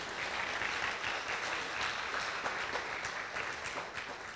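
A church congregation at a sermon applauds in a dense, even patter of many hands, fairly faint and distant, continuing steadily throughout.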